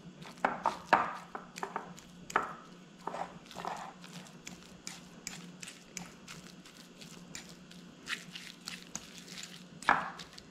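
Boiled cassava is mashed by hand before being mixed into a gluten-free snack dough, making irregular soft, quiet thumps and squishes close by with short pauses between presses.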